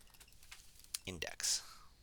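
Typing on a computer keyboard while entering text into a spreadsheet, a few soft close clicks and taps scattered through a brief quiet stretch.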